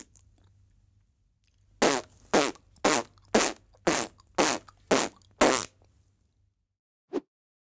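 Eight buzzy, forceful lip-vibration raspberry bursts imitate a beatboxed kick drum, spaced roughly half a second apart, loud and close, with a faint low hum underneath and one short extra pop near the end; no talking.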